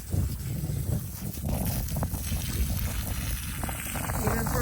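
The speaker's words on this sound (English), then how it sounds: "it's just a little bit breezy out here" Breezy wind in an outdoor garden at the end of May buffets the microphone with a steady, loud rumble, with rustling gusts and a voice talking over it.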